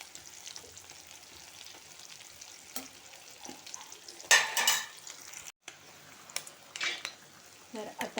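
Prawns koliwada being stirred and fried in a pan, with soft sizzling, scraping of a utensil against the pan and a few louder clatters near the middle and end, no talking.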